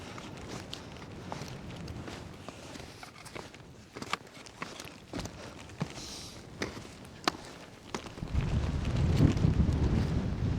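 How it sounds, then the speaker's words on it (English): Icy wind gusting across a mountain summit ridge in Scotland, buffeting the microphone with a rough, roaring rumble that swells louder near the end, mixed with crunching footsteps. "it's an icy wind that's blowing now"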